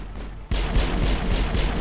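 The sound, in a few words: gunfire in the video game Mass Effect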